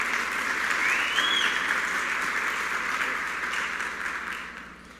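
A church congregation at an evening worship service applauds to welcome a speaker to the front: a broad, sustained burst of clapping that slowly thins and fades toward the end.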